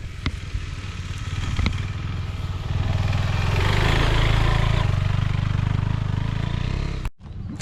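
KTM 390 Adventure motorcycle engine climbing a hill, a steady mid-pitched drone that swells as the throttle opens, with rough clattery texture and a brief dropout near the end.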